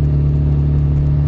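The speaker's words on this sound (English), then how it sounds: "Really nice car." A car engine runs steadily and loudly close by, a low constant hum with a faint whir above it and no real rise in pitch.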